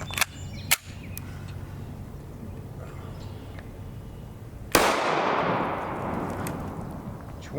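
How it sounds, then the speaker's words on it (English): A 5.7x28mm round with a copper solid bullet is fired at a test block: a single sharp, loud report with a lingering echoing tail, preceded by a few faint clicks and quiet handling. "our first shot completely missed the block, shot way high for some reason"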